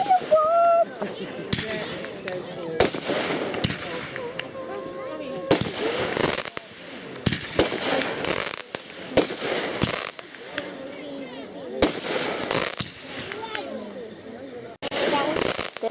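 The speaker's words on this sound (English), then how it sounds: "Oh, so many fireworks!" Fireworks exploding at night on the eve of the Fourth of July: dense, continuous volleys of booms and crackling bursts, some near and sharp, others distant, with occasional excited voices over the barrage.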